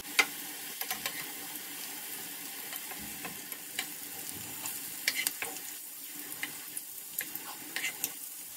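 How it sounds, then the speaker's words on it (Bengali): Bottle gourd dhoka pieces frying in oil in a pan and being flipped, a soft continuous sizzle with scattered small clicks and taps of the turner, quiet and close, no talking. "দেখুন বন্ধুরা আমার এক পাশ কিন্তু ধোকাগুলো হয়ে গেছে। এবার আমি উল্টে দিচ্ছি।"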